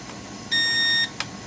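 A Syma X8HW drone's radio transmitter lets out a single loud, steady electronic beep of about half a second as it switches flight mode, followed by a faint click.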